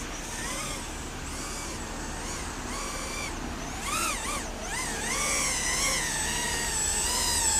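A FuriBee X140 micro drone whines steadily in flight, its motor pitch rising and falling in sweeping bends as the throttle changes, close and fairly loud throughout.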